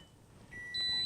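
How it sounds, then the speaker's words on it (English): Microwave and other appliances beeping in a caravan as inverter AC power comes online: a couple of short, close electronic beeps rising over a quiet background hum. "Hear everything beep, that's the microwave and stuff like that."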